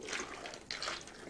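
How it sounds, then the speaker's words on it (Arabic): Water being poured into a tray of fish for a Ramadan dish, a faint, brief splashing and trickling with no talk. "هلا بنضيف شوية مي."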